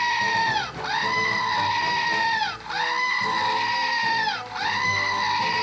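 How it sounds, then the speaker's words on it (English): A screaming goat novelty toy lets out three long, loud, piercing electronic screams, each held for about two seconds with short gaps between them. "it's good to know that this screaming goat"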